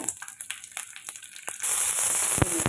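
Mustard seeds, a dried red chilli and curry leaves crackle in hot oil for a tomato chutney tempering, with sharp close pops at first, then a sudden loud, dense sizzle that fills the rest.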